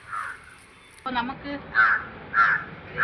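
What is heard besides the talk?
crows cawing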